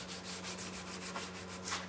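Soft rhythmic rubbing of sandpaper worked by hand over painted wooden furniture, steady back-and-forth strokes, faint and close under a low steady hum.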